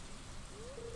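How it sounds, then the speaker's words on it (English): Steady rain patters across a farm scene in the video game Stardew Valley, a soft continuous hiss filling the whole second, with a faint tonal chime rising near the end. "Valen, why are you out here in the rain?"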